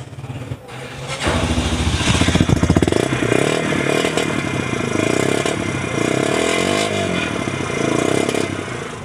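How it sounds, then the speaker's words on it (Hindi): A Yamaha YBR 125G motorcycle is self-started: a short whirr of the starter, then the single-cylinder engine catches and settles into a loud, close idle with mechanical clatter and slight revving. "सेल्फ स्टार्ट भी चेक हो गया, बीच में किसी दाने का कर लेना चाहिए, साउंड भी चेक हो गया"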